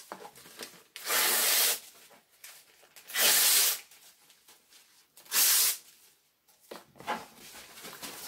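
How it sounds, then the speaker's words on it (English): Newspaper is torn into strips in three loud, rasping rips about two seconds apart, with softer rustling and handling noise between them. "we're just going to start to tear it into strips"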